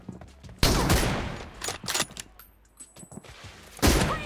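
Bursts of gunfire in the BGMI mobile video game, with a loud volley at the start, scattered sharp shots through the middle and another loud burst at the end, close and punchy with no talking.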